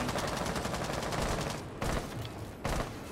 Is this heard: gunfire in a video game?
yes